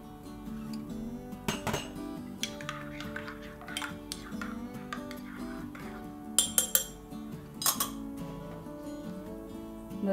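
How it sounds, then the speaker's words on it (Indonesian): A spoon stirring a coffee drink in a cup before pouring, giving repeated close metallic clinks against the side, growing brighter and faster toward the end, with no talking. "Sebelum dituang, ini diaduk dulu. Udah larut semua."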